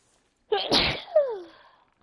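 A single close, sharp sneeze from a character in the video game Horizon Zero Dawn, a quick breathy burst that trails off with a falling nasal tail.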